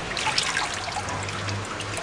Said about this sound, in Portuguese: Depois disso, ela vai esvaziar o tanque, vai encher novamente com água